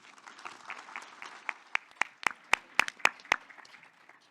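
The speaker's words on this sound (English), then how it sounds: "Please give them a warm round of applause." Scattered applause at a judicial summit on mental health: soft, thin clapping from a modest audience, with a few louder individual claps standing out near the middle before it fades.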